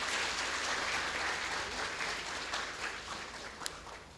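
A conference audience at an actuarial society's annual convention gives a sustained round of applause, dense and even, fading slightly near the end.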